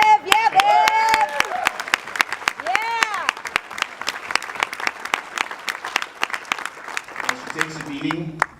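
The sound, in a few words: applause at softball awards banquet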